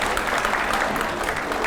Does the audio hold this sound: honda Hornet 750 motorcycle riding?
no